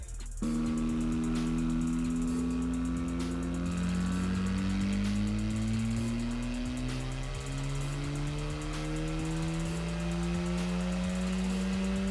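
A Mazda FC RX7 making 99.2 horsepower on a dyno revs hard and continuously, its engine note climbing steadily in pitch through the gears. It is loud and close, with no voices.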